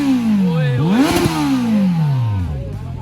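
Kawasaki Z900 motorcycle with a newly fitted exhaust revving loudly up and down, pitch climbing, peaking sharply, then falling away over a few seconds, close to the bike.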